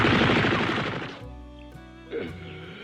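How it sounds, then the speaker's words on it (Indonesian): Firearms open fire in a cartoon scene, a dense burst of rapid gunshots crashing loudly at first, then cutting off into ringing tones with a few scattered later impacts. "setelah mereka menghujaminya menggunakan senjata api"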